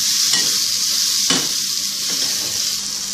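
A spoon stirs and tosses apple chaat in a bowl with black salt, black pepper, red chili powder and sugar, giving a steady soft scraping and rustling with one sharper clink near the middle and no talking.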